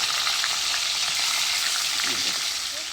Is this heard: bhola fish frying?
yes